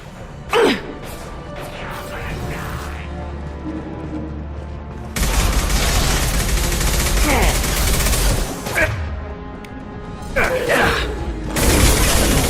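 Sci-fi weapon fire in the video game Mass Effect 2, loud dense bursts of gunfire and impacts that surge and pause over game music, with voices speaking at times.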